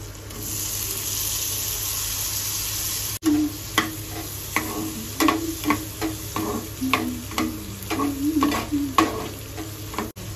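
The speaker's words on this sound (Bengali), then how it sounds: "এখানে ভুট্টা সেদ্ধ করে নিয়েছি, সুইট কর্ন। এটাকে বাটারে ভাজা হবে" Boiled sweet corn frying in butter in a pan, with a steady sizzle under repeated sharp scrapes and clicks of a spoon stirring the kernels at close range.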